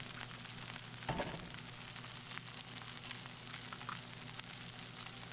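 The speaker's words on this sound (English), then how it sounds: "Meantime, chorizo and green peppers cooking right here." Chorizo and green peppers sizzle steadily in a pan, a faint continuous crackle with one brief louder clatter from stirring.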